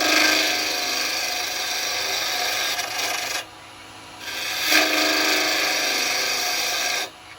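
A round carbide chisel cuts into spinning wood on a lathe, giving a loud, steady scraping rasp in two long passes with a brief quieter gap between them.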